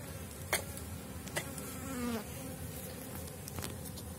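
Honeybees flying around their hive make a faint, continuous buzz, with a few brief louder buzzes as single bees pass close to the microphone. No one speaks.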